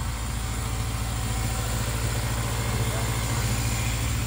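A Toyota 2ZZ-GE engine in a Celica idles steadily just after starting, a low, even rumble held close and constant for several seconds.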